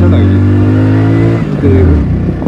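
A 500 cc motorbike labours uphill, its engine a loud, steady drone that dips briefly midway and then picks up again.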